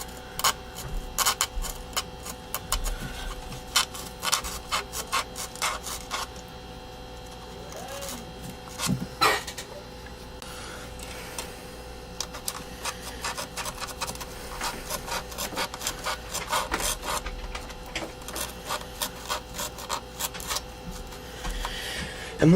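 A blade cuts around the edge of an old 8-inch speaker cone, giving a long run of close, irregular scratchy snips and rasps with brief pauses, over a faint steady hum.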